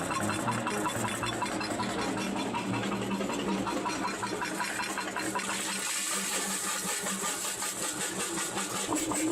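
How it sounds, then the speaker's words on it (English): A small jaw crusher breaks down Nevada gold ore samples with a continuous loud mechanical grinding and engine-like drone, steady throughout without pause. "We're going to crush it down to about 1/4 inch minus through a jaw crusher"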